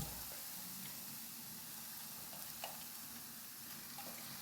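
Washed prawns sizzle in a pan of masala for a kudampuli prawn curry, giving a faint, continuous frying hiss with a few soft crackles and stirring taps.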